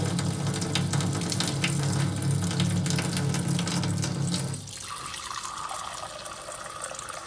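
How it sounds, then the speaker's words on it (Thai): Water runs loudly into an ecosphere filter unit for about four and a half seconds, a steady close gushing rush that then drops to a quieter trickling flow, with no talk. "ได้ยินเสียงน้ำเข้าไปหนึ่งเครื่องแล้ว ดำเนินการกรองมาแล้ว"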